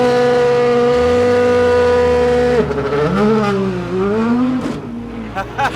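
Rally or race car engine on the pre-grid at Kouvola 2022, holding a steady high-pitched rev, then swinging up and down in sharp throttle blips near the end, loud and close.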